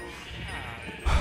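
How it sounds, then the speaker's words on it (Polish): A sheep in the video game Minecraft gives a short, loud bleat near the end, over a voice talking steadily and background game noise. "Ale głośno są te owce, nie?"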